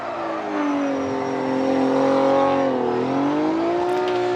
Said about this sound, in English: Ryan Turk now warming up his tires.